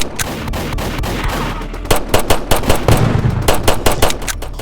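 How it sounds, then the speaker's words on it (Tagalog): Gunfire in the Roblox zombie game All of Us Are Dead comes in rapid automatic bursts of sharp, loud shots. A stuttering stream builds into denser, heavier volleys toward the end. "Sino binabaril mo dyan?"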